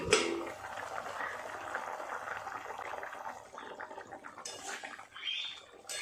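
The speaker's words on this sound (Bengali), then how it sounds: "টকবক করে ফুটছে ঝোলটা" Hilsa fish curry bubbling in a pot, a steady close simmering hiss with soft liquid blips running throughout, briefly brightening near the end.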